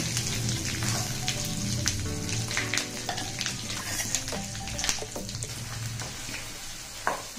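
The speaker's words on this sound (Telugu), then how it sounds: "ఈ పచ్చడిని కలుపుకుందాం తాలింపులో" Nalleru stem chutney is stirred into a hot oil tempering with the stove turned off, a wet sizzle with scraping stirs and irregular clicks of a spoon against the pan, steady and close.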